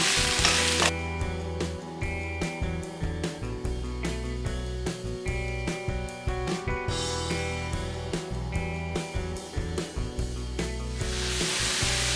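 Courgettes and onions sizzle loudly in a pan, a steady close crackling hiss with frequent stirring scrapes and clinks running throughout.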